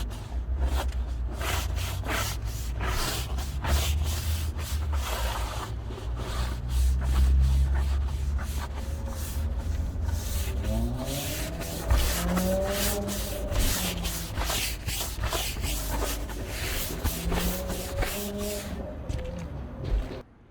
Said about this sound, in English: Use a hand soft bristle brush to lift up any stubborn dirt.